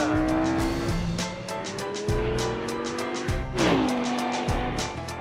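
A race car on a timed lap at a French circuit, the engine revving hard through repeated upshifts and downshifts with sharp falling pitch drops, close and loud throughout, with brief tire squeal.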